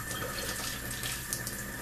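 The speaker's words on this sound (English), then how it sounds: "you're going to rinse off your pork chops with a little cool water" Cool tap water runs in a steady, close splashing stream into a sink as pork chops are rinsed, with no voices.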